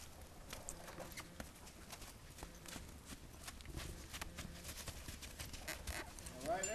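A horse on a 60-foot lunge rope during early saddling training walks out, its hooves making soft, steady clip-clop footfalls on the ground, faint and a little distant, while someone talks over them.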